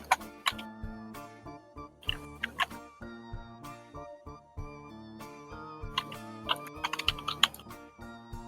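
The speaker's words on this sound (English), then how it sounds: "He's just got a really strong microphone that's picking up his keyboard noises" Computer keyboard typing picked up by a strong microphone, with quick, close clacks in bursts set against game music in the background.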